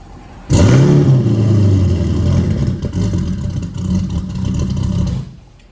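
A broken LSX turbo truck engine roars on a dyno, surging to a sharp loud rev and then holding a rough, clattering drone for several seconds before cutting off, up close with no voices.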